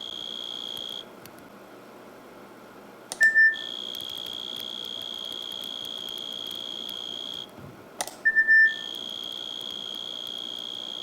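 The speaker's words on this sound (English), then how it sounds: "When synthesized cricket song is played from the speaker, the fly will try to run towards it" Synthesized cricket song plays from a speaker in a lab setup: long sustained high electronic chirping tones that stop twice for a few seconds, each restart marked by brief bright beeps.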